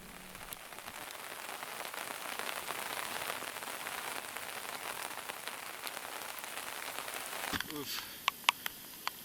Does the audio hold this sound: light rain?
yes